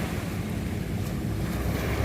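Sea waves rolling near mountains, a steady loud wash of surf mixed with wind buffeting the microphone, continuous with no talking.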